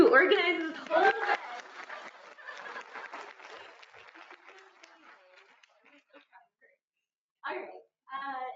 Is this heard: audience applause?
yes